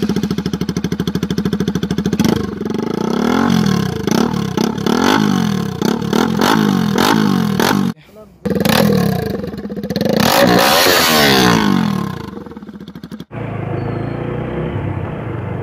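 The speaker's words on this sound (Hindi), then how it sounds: "तो गाड़ी एकदम खतरनाक आवाज़ मार रही है, तो आपको सुनाते हैं" A Bajaj Pulsar RS200 motorcycle with its muffler, silencer and dB killer removed, revving hard and loud up close in repeated blips, with a brief cut partway and a steadier rumble at the end.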